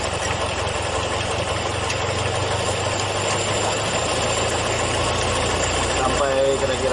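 Carburetor engine held at raised, fairly high RPM during idle and air-screw adjustment, a steady loud mechanical drone running throughout, with a brief voice near the end.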